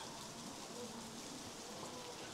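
Heavy rain pours down in Wulong, Chongqing: a steady, even hiss of downpour with no break over the short stretch.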